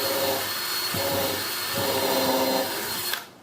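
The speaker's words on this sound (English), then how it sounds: "by drilling a smaller hole like this" A power drill bores a small pilot hole for a door hinge on a 5 x 8 teardrop camper, a close, loud whirring grind with brief pulses before the motor stops abruptly.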